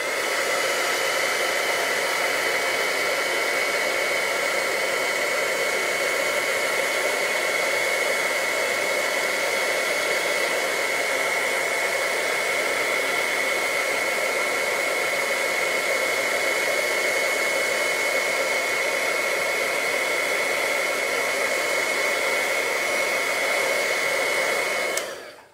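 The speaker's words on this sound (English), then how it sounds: "now I'm going to heat set this" A heat tool blows steadily to heat-set embossing powder, a loud, even whooshing roar that runs unbroken for about twenty-five seconds and then cuts off abruptly, with no talking over it.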